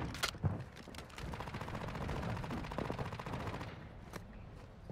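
Rapid automatic gunfire bursts from the game DMZ, loud and continuous with sharp individual shots mixed in, filling the whole span without talk.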